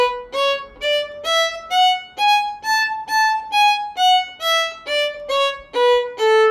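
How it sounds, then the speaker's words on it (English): A violin plays a steady series of short, separated staccato bowed notes, bow direction changing on each note, each clipped off with a small gap, the line rising and then falling in pitch. "Staccato might sound like this."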